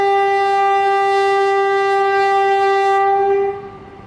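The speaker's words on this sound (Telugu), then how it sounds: "క్లియర్ అయితేనే అంత లౌడ్ హాంక్ ఇచ్చేది కుర్రాడు." Indian Railways locomotive horn at Vijayawada Junction, one long, loud, steady blast held for about three and a half seconds before cutting off, leaving faint background rumble.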